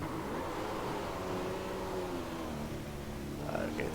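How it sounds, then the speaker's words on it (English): A 2015 McLaren Honda Formula 1 car in the iRacing simulator revs at a race start, a sustained engine whine rising and shifting in pitch, heard fairly quietly under a noisy mix. "It's really hard to do a race start. You have to give it a lot of revs."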